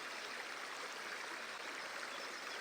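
A creek bubbles and rushes in a steady, unbroken wash of flowing water, close and even throughout with no voices.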